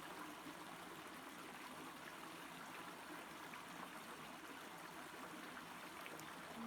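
Steady, even rush of falling water from a waterfall, a continuous broadband wash with no pauses, heard alone without voices.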